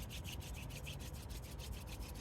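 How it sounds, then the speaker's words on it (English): A wooden spindle spun fast between the hands on a wooden fireboard, bow-less hand drill style, a close, steady, rapid rubbing and grinding with a rhythmic pulse, no talk. "So I'm going to make a faster pass down the spindle."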